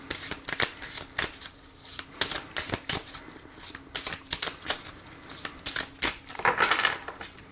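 Oracle cards shuffled by hand at close range, a rapid series of crisp riffling snaps and soft slaps in uneven bursts, quiet and alone without talk.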